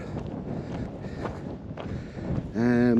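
Wind buffets a Nemo Dagger OSMO 2 tent pitched on exposed Tinto Hill, a steady rushing roar with gusts, ending in a sudden loud tonal flap or whine near the end.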